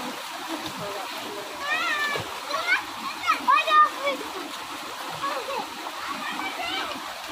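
Tubewell water splashes as clothes are washed outdoors in a Pakistani village while children bathe nearby, a steady wet spatter with a few louder splashes, under high chirping calls and faint voices.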